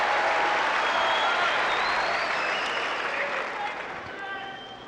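Large US Open 2002 quarterfinal tennis crowd in a stadium, applauding and cheering a point, a dense continuous roar of clapping that slowly tapers off, with voices mixed in.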